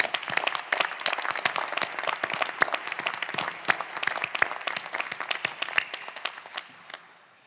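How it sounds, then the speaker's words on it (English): Crowd applause at a new lawyer induction ceremony, many distinct sharp claps from a seated audience, fairly faint and steady for several seconds before tapering off. "Please give them a round of applause."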